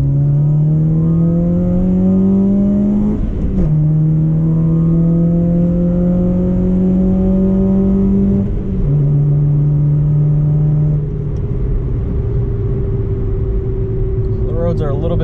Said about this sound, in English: So let's take it for a drive, see how they do.